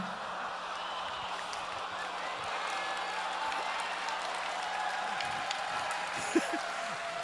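A large audience in a convention main theatre claps in a steady, dense wash of applause, with some crowd noise and a few whoops that are mostly even and continuous.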